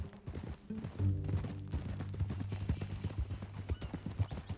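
Horse hooves clip-clop and a horse whinnies in Red Dead Redemption 2, the snorting neigh rising over close, uneven hoofbeats of a single horse moving at a walk.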